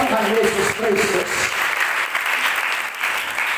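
A church congregation at an open-air revival meeting in Bokong-Taibenu village claps loudly and steadily, dense applause filling the space while a voice carries briefly through the first second.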